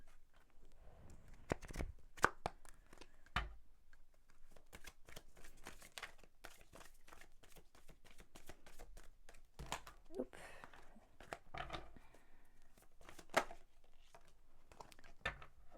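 A tarot deck is shuffled by hand for a reading, close and crisp, with repeated riffling snaps and soft card slides in irregular bursts, and a voice speaks at times.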